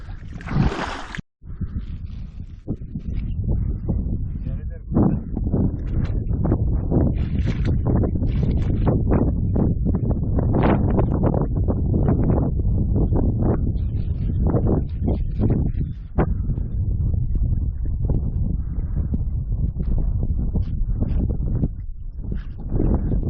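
Strong, steady wind buffets the microphone outdoors, a loud continuous roar with gusty rumbling throughout.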